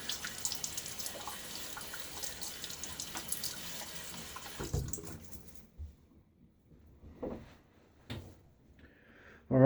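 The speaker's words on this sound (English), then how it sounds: "let me throw a bit of water on my face." Tap water runs steadily into a bathroom sink for about five seconds, then shuts off; scattered splashes and drips follow as water is thrown onto a face before a shave.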